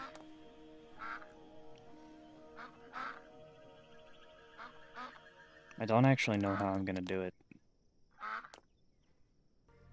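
A duck in the Night of the Dead game gives several short quacks spread across the clip, with one louder, drawn-out honking call near the end; someone talks quietly in between.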